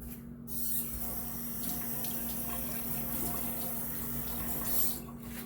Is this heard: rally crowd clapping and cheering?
no